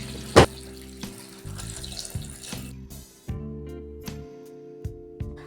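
Water pours and splashes into a pot of chopped vegetables with chili powder and spices, a close running stream broken by a sharp clink, with irregular trickling and bumps behind it.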